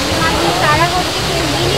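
Water falls steadily in a stone fountain in a crowded park during a New Year festival, a continuous broadband rush with voices of the crowd talking underneath.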